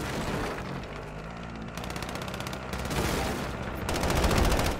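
Gunfire in a Warzone match: continuous bursts of automatic weapon fire, some rapid and rattling, others heavier, with booming shots that grow louder toward the end, in a dense, busy mix.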